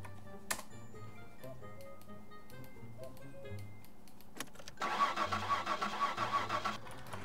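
A car engine cranks and catches in the driving game My Summer Car, a short burst of mid-pitched revving after quiet idle sounds and light clicks, fairly faint overall.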